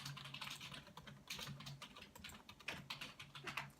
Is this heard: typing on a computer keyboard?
yes